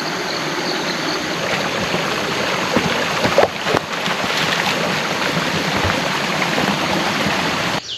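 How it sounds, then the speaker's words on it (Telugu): A natural forest stream in Dandeli flows steadily, a continuous broadband rush of water that stays close and even throughout, with a brief splash-like disturbance midway. "ఇంత న్యాచురల్ స్ట్రీమ్ చూడండి"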